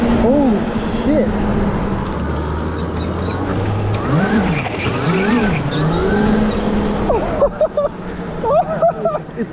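A 110V electric go-kart accelerating at full throttle, a loud close motor whine rising and falling in pitch under wind noise, with voices talking and exclaiming near the end.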